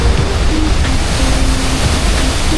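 A strong river current rushes loudly and close by in Bukidnon, a constant roaring wash of water with occasional surges and no voices.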